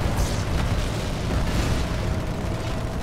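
Tank cannon explosions in the video game Halo 2 Anniversary: a dense, continuous roar of loud, rumbling blasts that fills the whole stretch without pause.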